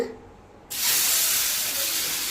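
Red rice adai batter hits a hot, oiled dosa griddle with a sudden loud sizzling hiss that starts abruptly and holds steady, close up.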